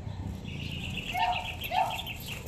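Chickens being fed in a countryside yard give a couple of short clucking calls over a steady low background rumble.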